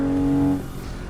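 Car engine in a driving video game played with a steering wheel, a steady loud hum that drops off partway through the short moment.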